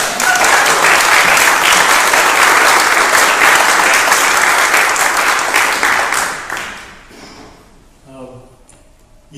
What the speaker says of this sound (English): So I make another round of applause for Kathleen.